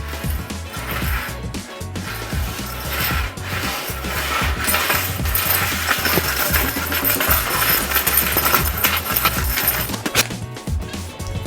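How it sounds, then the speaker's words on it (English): Keys dragged lightly across painted IKEA furniture in a paint-adhesion test, giving a continuous metallic scraping and jingling clatter that holds through the stretch with brief pauses at the start and end. "Let's drag these keys across nice and lightly and see what happens."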